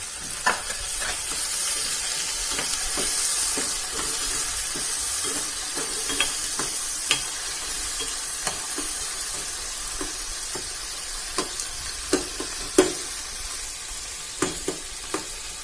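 Finely chopped tomatoes fry for pav bhaji with a continuous bright sizzle, while a spoon scrapes and taps the pan in frequent small clicks throughout.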